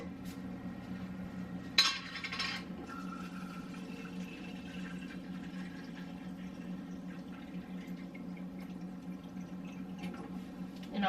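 Water poured from a container over uncooked lasagna noodles in a baking dish, a steady trickling fill over a low background hum, with a brief clink near the start.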